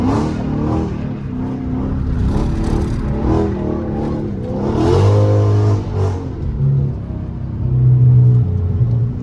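A manual car revs hard in second gear while drifting through neighborhood streets, its engine rising and falling in repeated surges, loud and close, with no talking.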